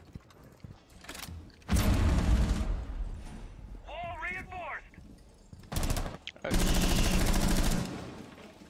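Bursts of rapid automatic gunfire in Rainbow Six Siege, two long loud volleys and shorter shots, close and harsh, with players talking and shouting between them.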